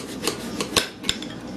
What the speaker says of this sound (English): We cut it in half in the bowl.